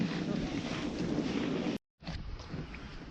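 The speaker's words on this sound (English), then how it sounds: "It's so windy" Strong wind on a ski slope buffets the microphone with a loud, rushing roar on a cloudy day, cutting out briefly to silence before gusting again.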